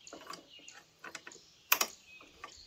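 Plastic bumper clips on a Ford F-150 give sharp, irregular small clicks and snaps as they are pried off, a few quick ticks clustered with one louder crack near the end.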